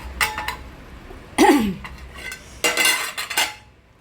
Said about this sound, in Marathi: आता आपण जरा झाकण उकडून बघूया